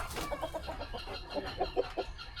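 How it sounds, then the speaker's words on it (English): A rooster on a farm clucks in rapid short bursts, a stuttering run of throaty clucks close by and moderately loud over outdoor background noise, with no talking. "that's the type of rooster you want to have right there"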